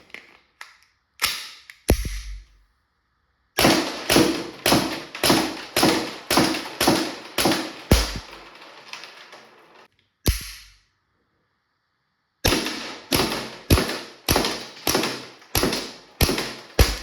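Airgun rounds from a magazine for an Umarex Glock 17 Gen5 .43 caliber pistol are emptied into a drum. Crisp rapid taps come in quick bursts of about eight, separated by pauses, with a few heavier thuds.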